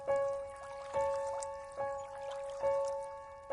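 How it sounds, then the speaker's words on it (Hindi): Water drips into a river at a ghat at night, with single drops landing at a slow, regular rhythm about once a second. The drops are quiet and sit over a faint, steady tonal hum. "नदी के पानी की आवाज गूंज रही थी।"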